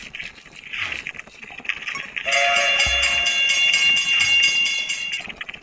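A train passes with a rising rumble and a sustained horn that swells midway and stays loud, fairly near, with faint background noise before it.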